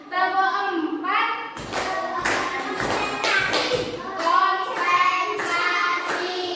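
A class of children claps a rhythmic four-count clapping pattern, a series of sharp group claps in a bursty rhythm, with children's voices chanting and talking between and over the claps.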